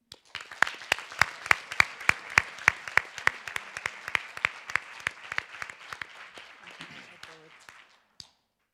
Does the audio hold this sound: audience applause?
yes